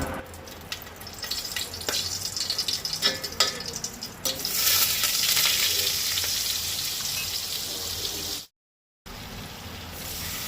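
Four spoons of oil and four spoons of butter heating in a pan on the gas stove for butter chicken, a steady close sizzle with a few clicks and stirring scrapes, swelling louder midway.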